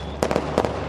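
Fireworks go off at an anime festival as a few sharp, crackling bursts in two quick pairs over a steady background hum, fairly faint and brief.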